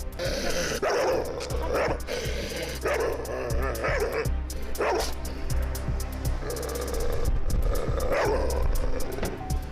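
Loud, frantic barking and yipping comes from a dog in the back seat of a car after the rear door opens, with bursts going on for about ten seconds among other busy background noise.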